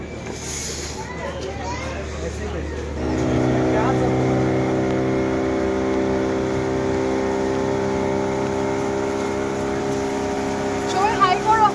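A boat motor comes in near and steady, its low harmonic drone rising as the craft arrives at an Ooty boating spot, with voices chattering over it.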